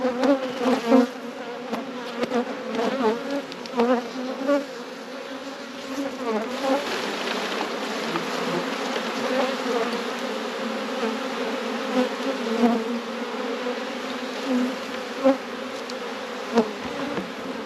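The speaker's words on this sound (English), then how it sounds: "This hive was short on bees." A steady, dense buzzing of many honey bees at a hive fills the air continuously, close by, with occasional louder individual passes.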